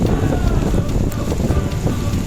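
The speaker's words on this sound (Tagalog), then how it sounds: "Lakas ng ulan. Lumakas ang ulan dito." Heavy rain pours down on a street in Manila near Claro M. Recto Memorial Hospital in a dense, continuous roar, with gusty wind noise buffeting the microphone throughout.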